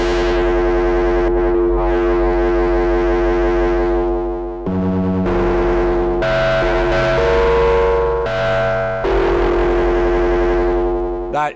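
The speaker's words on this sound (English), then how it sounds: "Let's throw some distortion on this right here." Prophet Rev2 synthesizer with a distortion effect and LFO modulation, playing loud sustained, harmonically rich distorted tones that shift pitch in abrupt steps over several seconds, with no voice.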